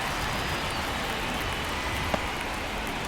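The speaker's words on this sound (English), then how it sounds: "the field's not going to be able to hold up if the rain gets any worse than this" Steady, dense rainfall hisses over a baseball stadium in MLB The Show 24 during a Brewers–Braves game, an even wash of noise with one brief faint tap partway through.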